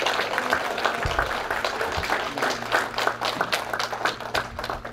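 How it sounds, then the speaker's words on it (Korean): Audience applause at a memorial ceremony for President Syngman Rhee, a steady wash of many hands clapping that fills the whole stretch at moderate loudness, with faint murmuring underneath. "박수 한번 해주시면 어떻습니까?"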